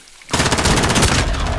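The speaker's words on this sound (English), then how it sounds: "I'm gonna use the Deagle." Desert Eagle pistol fire in Call of Duty: Modern Warfare bursts in abruptly after a quiet instant, a loud, dense cluster of rapid close shots that blur into one continuous barrage.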